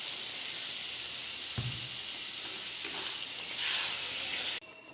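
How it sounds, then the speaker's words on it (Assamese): Water from soaked paneer poured into a hot pan of sizzling paneer and potato curry, a steady loud hiss that swells near the end before cutting off abruptly. "এতিয়া মোৰ পনীৰ থকা পানীকণ মই ইয়াতে দি দিম"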